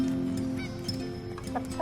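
Hens at a backyard chicken coop clucking in short, scattered bursts over a steady background hum, moderately close with no talking.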